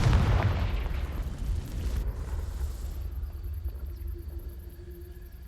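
A booming fiery blast from the Confringo spell in the video game Hogwarts Legacy, loud at the onset and then rumbling and fading over several seconds into quiet ambience.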